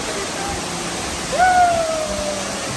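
Indoor waterfall at Cloud Forest, Singapore, a constant loud broadband rush filling the space, with a brief vocal exclamation rising over it midway.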